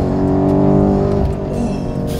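A BMW F90 M5 launching hard under launch control, its engine a loud, sustained growl that rises steadily in pitch, heard up close from inside the car.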